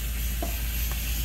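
Garlic frying in hot oil in a pan at a farmhouse feijoada lunch, a steady, close hiss of sizzling with a couple of faint stirring clinks and no talk.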